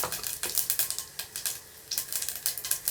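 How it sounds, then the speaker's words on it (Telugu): Mustard seeds and cumin seeds crackle and sizzle in hot ghee in a pan, with rapid, close popping bursts in irregular clusters. "దీంట్లోకి 1/2 టీ స్పూన్ ఆవాలు, అలాగే 1/2 టీ స్పూన్ జీలకర్ర వేసుకుందాము."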